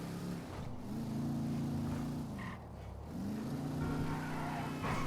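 Steady engine drone of a car driving in GTA V Online, a low hum that dips briefly around the middle then picks back up, continuous and fairly close with no talking.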